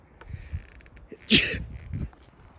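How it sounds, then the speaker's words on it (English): A single sharp sneeze bursts out close by, with quiet breathing and small movements around it. "my sneezing feels terrible"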